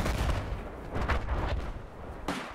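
Dense bursts of gunfire from a Battlefield 4 weapon in Naval Strike multiplayer, several sharp reports over a constant rumbling battle backdrop, loud and close.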